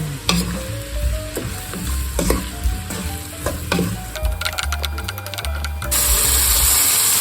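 Chicken fricassee with bay leaves sizzles in a frying pan while it is stirred. A spoon scrapes and knocks against the pan over a loud, steady frying hiss, and the hiss grows brighter and more intense toward the end.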